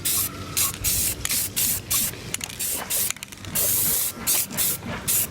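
Rust-Oleum spray paint goes on as a light first coat over a Razor Pocket Mod bike being turned into a chopper: close, loud, repeated hissing bursts in short rhythmic passes with brief gaps between.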